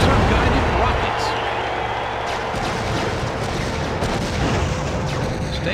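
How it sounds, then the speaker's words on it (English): Laser-guided rockets firing in the WWE Crush Hour vehicle combat game, a few booming blasts and explosions over engine rumble while a commentator talks. "Bubba Ray Dudley just grabbed the laser-guided rockets."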